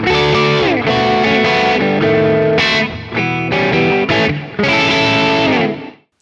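A distorted electric guitar plays a short chordal riff from a song with sustained, effect-laden tones and brief gaps, ending abruptly.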